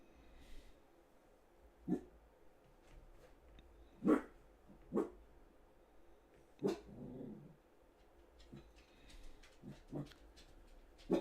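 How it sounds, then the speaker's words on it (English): Dog in a home room giving low growls and short huffing barks at irregular intervals, faint and fairly distant against a quiet background hum. "My dog's growling."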